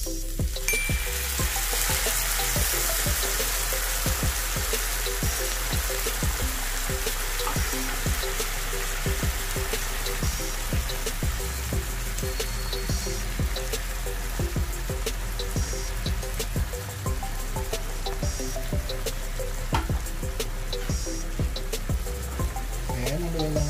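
Tuna sizzles and fries steadily in a hot pan for a creamy pasta, a loud continuous crackle with occasional stirring clinks throughout.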